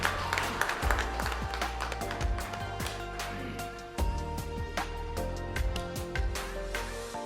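An audience applauds steadily at a state teachers' day award ceremony at Raj Bhavan, Shimla, as honourees are felicitated by the governor, with sustained clapping throughout and sharp, close hand claps standing out above the crowd.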